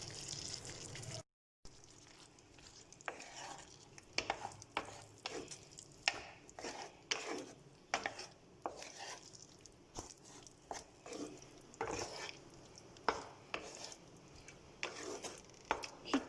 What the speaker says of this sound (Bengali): এগুলোকে ভালো মতন মিশিয়ে নিচ্ছি।